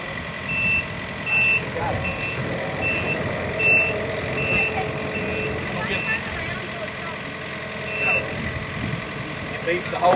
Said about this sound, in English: beeps the whole time so that people know you're moving